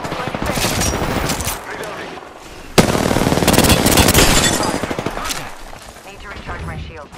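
Rapid bursts of automatic gunfire in Apex Legends, loud and close, with a sharp louder volley midway and dense crackling shots throughout.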